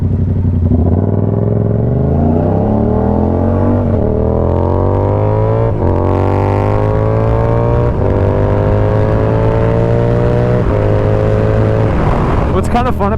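A Yamaha R7 motorcycle fitted with an SC Project CR-T exhaust is ridden hard, its engine loud and close as it revs up through several gears with rising pitch sweeps and brief dips at each shift.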